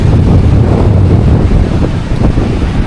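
Heavy wind buffets the microphone at the beach beside the Ganpatipule temple after rain, with a continuous roar of sea surf underneath, loud and unbroken.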